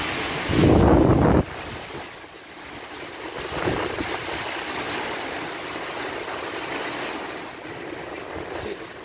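Strong winds from Typhoon Odette (Rai) roar outside a window in Saint Bernard, Southern Leyte, during signal number 5. A steady rushing, buffeting noise is heard, with a loud close gust thump near the start.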